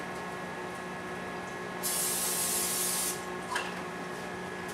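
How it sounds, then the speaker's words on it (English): Olive oil non-stick cooking spray is sprayed in one short steady hiss lasting about a second, followed by a faint click, in a quiet room with low background hum. "I got some great value olive oil, no stick cooking spray"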